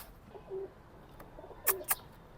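Ferozpuri pigeons coo softly in a few low, brief notes, with a couple of sharp clicks nearby and no talking.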